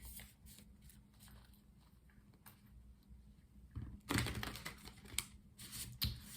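Tarot cards shuffled by hand, a soft papery riffle and flutter that swells loud and close after a quieter stretch of faint rustling handling.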